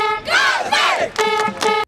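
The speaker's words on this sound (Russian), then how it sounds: "Чего стоят одни только болельщики на трибунах стадиона Дагао." Football fans in the stands at Dagao stadium chant and cheer in loud, sustained bursts, with a sharp cutoff at the end.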